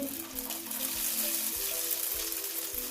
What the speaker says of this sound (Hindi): अब हम इसे थोड़ी सी देर तक मज़ीद फ्राई करेंगे। शामियाँ हमारी फ्राई हो चुकी हैं।